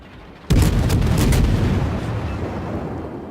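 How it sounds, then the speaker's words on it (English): A naval artillery salvo fired in a warship battle game, one heavy boom erupting suddenly and then rolling on as a long, loud, rumbling tail. "That wasn't a very good salvo."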